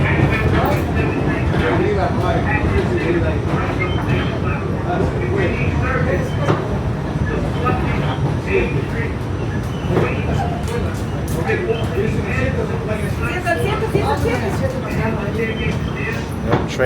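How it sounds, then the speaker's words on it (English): A New York City 7 subway train rumbles at Queensboro Plaza station, a loud continuous roar with rattling wheels and clatter, while a voice talks over it. "Yep, trains across the platform"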